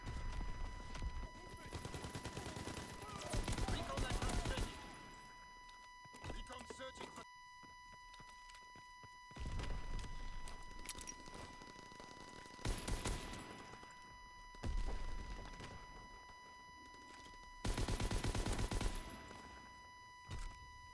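Bursts of gunfire and mortar blasts from the Call of Duty: WWII video game come in loud clusters separated by quieter gaps, with sharp rapid reports and booming impacts.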